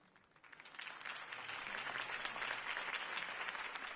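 Crowd applauding after a campaign speech in Batman: The Telltale Series, a dense spread of clapping that rises quickly and holds steady, moderately distant, without speech.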